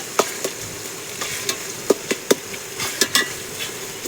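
Tomatoes sautéing in a pan for a hometown river fish kulambu, giving a steady soft sizzle broken by occasional sharp stirring clicks and pops, close and moderately loud with no talking.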